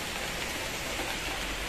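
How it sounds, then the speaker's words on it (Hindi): Heavy rain pouring down steadily, a close, dense hiss of drops striking surfaces that stays constant and loud throughout with no voices. "कितनी जोर से बारिश होने लगी।"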